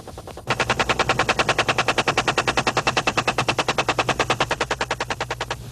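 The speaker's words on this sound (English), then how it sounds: "permission to fire is granted, and the escorting gunships race in" Helicopter gunships in the Vietnam War fire machine guns in one long, rapid, evenly spaced burst of loud shots that runs for over five seconds without a break.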